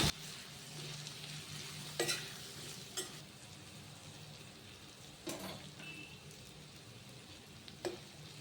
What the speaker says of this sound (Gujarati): હવે આપણે આ થોડી વાર તેલમાં ફેરવી લીધું છે